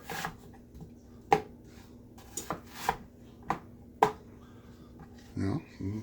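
A knife cuts an onion into halves on a board, several sharp, separate chops and taps at uneven intervals, close by, with someone talking in between.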